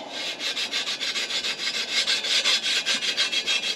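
Rhythmic back-and-forth scrubbing on a Lexus ISF, wiping away Sharpie marks and old grime with steady strokes, close and fairly loud, about ten passes with no talking.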